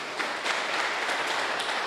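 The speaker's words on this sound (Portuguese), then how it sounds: "Vamos dar uma salva de palmas para Jesus?" Church congregation clapping for Jesus, a short burst of faint, distant applause with no talk over it.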